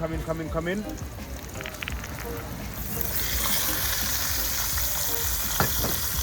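Onions and garlic frying in a pan outdoors, a steady sizzle that grows louder after ingredients go in, with a voice talking over the start.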